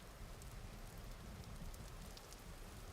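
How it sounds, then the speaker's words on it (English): Falling snow ambience in the Vintage Story video game, a soft, continuous hiss like light rain, faint and unbroken throughout with no voices. "Enjoy the sounds of snow. Yes, that's what it is. Not rain, snow."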